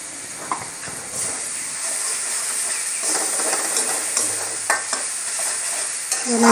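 Ginger garlic paste fries in a spice mix and oil, giving a loud, close sizzle with frequent scraping stir strokes and bursts of crackle throughout.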